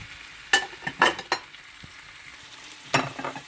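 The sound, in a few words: lobster pieces frying in butter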